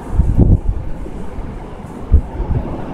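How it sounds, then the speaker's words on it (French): Heavy wind from a violent snowstorm in Amiens, France, buffeting the microphone in deep, rumbling gusts, loud and close, with a couple of sharper thumps. "On a la première neige dans une tempête de vent de la mort."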